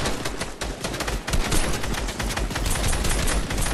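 Dense, continuous automatic gunfire from several weapons in a Fortnite squad match, loud rapid shots layered close and far with no talk.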